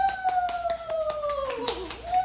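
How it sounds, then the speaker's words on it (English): A small group at a hair braiding academy claps for a student, quick evenly spaced hand claps close by, with a high whooping voice rising and falling over them. "Let's give her a round of applause."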